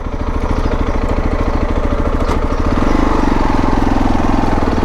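A motorcycle engine idles steadily and close by at a highway toll booth in Greece, its low, even pulsing throb continuing without a break.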